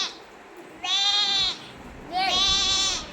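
A child imitates a goat's bleat, giving two separate drawn-out nasal bleats close to the listener, with a short pause between them and quiet background otherwise.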